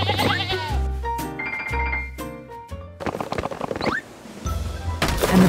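Sheep bleat in short wavering calls, a few in a row, mixed with soft thunks and clinks nearby.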